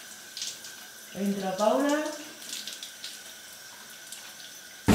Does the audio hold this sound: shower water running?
yes